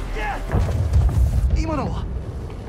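A big explosion in the Spider-Man: Miles Morales video game produces a deep, rumbling boom lasting about a second, heard under a person talking.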